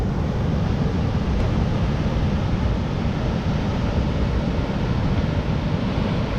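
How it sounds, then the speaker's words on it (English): Ocean waves along the Tenerife coast between Puerto Colón and Los Cristianos roar as a steady, loud, continuous wash of surf, with no breaks or distinct crashes. "they do have a lot of waves here"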